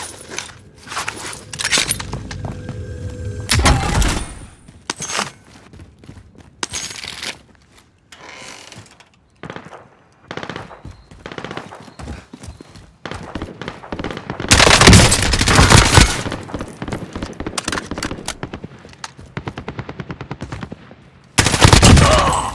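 Assault rifle fire in Warzone, with repeated bursts of sharp shots and long rattling volleys, interspersed with footsteps and gear clatter, loud and close.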